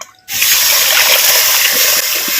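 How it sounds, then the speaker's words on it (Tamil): Moong dal cooking water poured into a clay pot, a sudden loud gushing splash that starts abruptly and continues as a steady close pour. "பாசிப்பருப்பு வேக வச்ச தண்ணியை வந்து இப்போ வந்து சேர்த்துக்கிறேன்"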